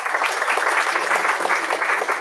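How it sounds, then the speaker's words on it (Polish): Audience applause at a Polish-Ukrainian scientific conference on emergency medical services: a steady, dense wash of clapping that holds at an even, fairly loud level for a couple of seconds, with no voices. "Wielkie brawa."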